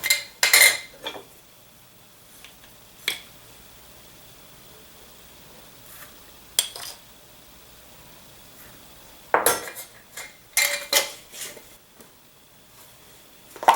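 A spoon measures two tablespoons of sugar in a home kitchen. Scattered metallic clinks and scrapes of cutlery and dishes come in sparse bursts, with quiet gaps between them, close and moderately loud.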